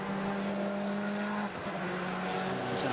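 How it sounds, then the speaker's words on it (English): A race car fires up and pulls out of a pit stop during an American Le Mans Series race at Mid-Ohio, with a steady droning engine that shifts pitch as it leaves, amid pit-lane background noise. "It's done, fires up, beautifully goes out."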